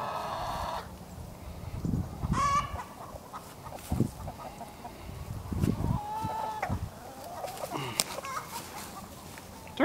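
Chickens cluck and squawk close by in a farmyard with a turkey around, scattered calls and bursts coming irregularly over a quiet background.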